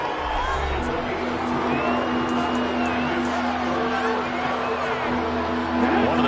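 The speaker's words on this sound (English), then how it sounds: "The crowd getting into it as we come up on a big third down." Football stadium crowd roaring steadily ahead of a big third down, a dense broad wash of cheering and babble with a constant tonal hum beneath, swelling slightly near the end.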